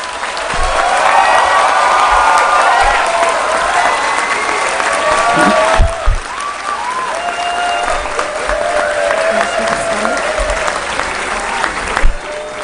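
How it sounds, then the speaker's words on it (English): A large convocation audience applauds steadily for the whole stretch, dense clapping with a few scattered cheers and murmured voices mixed in. "Now the audience may applaud."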